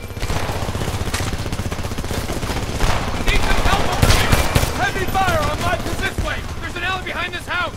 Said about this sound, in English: Shots on my position, give me some covering fire!